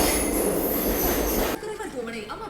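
The West Coast superfast express leaves the station with a loud, broad rumble of wheels and rail noise that cuts off abruptly, followed by quieter ambient sound with faint voices.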